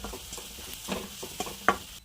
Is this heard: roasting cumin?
yes